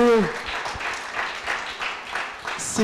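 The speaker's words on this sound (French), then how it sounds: "on peut les applaudir, hein, les projets" Audience applause for award-winning projects at a presentation, a dense burst of clapping filling the short stretch at moderate loudness, with a voice briefly audible at the start.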